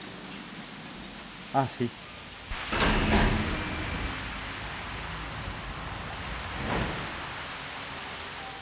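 Soft, steady rain hisses as ambient weather in the video game Jurassic World Evolution, with a few brief clunks and a short spoken remark over it.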